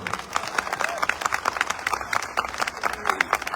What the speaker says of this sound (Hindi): जितने लोग पहली बार आए हैं उनका, हम जितने पुराने लोग हैं जोरदार तालियों से उनका स्वागत करते हैं।